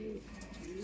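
A racing pigeon named Kimura gives a short, soft low coo close by, arriving late after a slow flight, with no talk over it.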